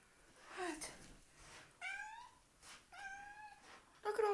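A kitten meows indoors, a few faint sounds early, then two clear rising meows in the middle and another starting at the end, close and plaintive.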